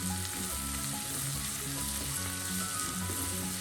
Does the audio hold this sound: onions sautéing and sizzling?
yes